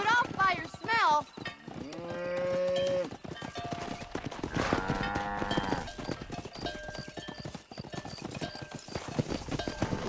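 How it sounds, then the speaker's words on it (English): Cattle herd in the Red Dead Redemption video game, with cows lowing in long tonal moos and a loud bellow midway, over steady clip-clop of horse hooves and a busy game soundtrack. "Herd the cows down the road."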